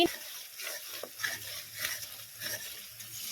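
Mustard spice paste frying over low heat in mustard oil in a pan, a soft continuous sizzle with light stirring, close and fairly quiet, without talk.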